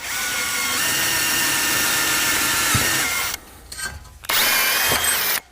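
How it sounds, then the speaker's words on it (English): A power drill whines steadily while drilling a hole through aluminum, pausing briefly near the end before spinning up again, loud and close. "all we're doing is just drilling us a hole here"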